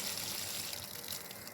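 Borehole pump motor running water through its suction line, a continuous rushing, gushing flow that stays steady and close for the whole short stretch.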